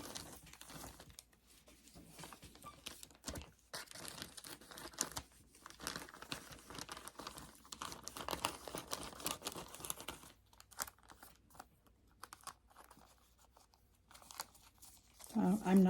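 Crinkle material being cut and handled for homemade cat toys, with close, intermittent crinkling and rustling in irregular bursts and pauses, quiet overall.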